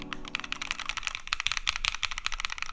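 Rapid typing on an ergonomic split keyboard, a dense run of crisp key clicks and taps in quick uneven rhythm, close to the microphone with no speech.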